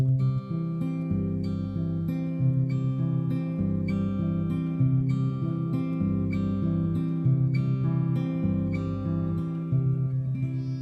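Fingerpicked acoustic guitar in a steady, rolling Travis picking pattern, alternating bass notes under bright melody plucks, played alone and clearly.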